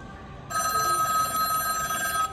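An Infinix Note 30 phone plays its ringtone as a sound test, a steady electronic ring with sustained bright tones starting abruptly and holding loud for about two seconds.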